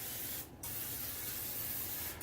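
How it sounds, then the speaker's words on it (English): A continuous hiss of cooking spray from an aerosol can, one brief pause partway through, then spraying resumes steadily, close up with no talking. "So again, hit it with the cooking spray."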